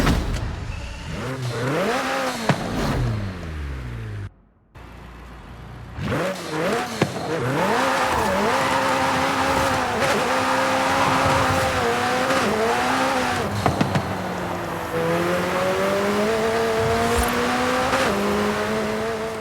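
A McLaren 720S Spyder in Forza Horizon 5 revs and shifts through gears on a rally mountain pass, engine pitch rising and falling repeatedly with a brief cut near the start, loud and continuous.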